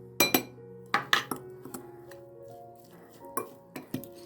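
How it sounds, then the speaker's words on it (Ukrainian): A fork clinks and scrapes against a bowl in irregular bursts as a soft spread with olive oil is mashed, close and clear with quiet pauses between strokes. "Все це переминаємо."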